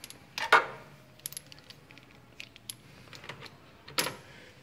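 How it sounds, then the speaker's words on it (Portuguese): Metal wrenches being pulled off freshly tightened spark plugs on a 2003 VW Polo 1.6 8v EA111 engine, giving a few close, sharp metallic clinks and jangles with quiet gaps between them. "você retira as chaves direitinho"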